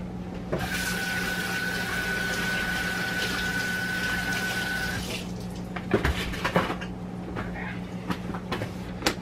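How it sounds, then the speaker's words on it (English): A kitchen tap runs steadily as hands are rinsed under it, a continuous close hiss that stops after about five seconds, followed by a few small clunks and splashes. "So I'm just going to rinse off my hands for a quick second."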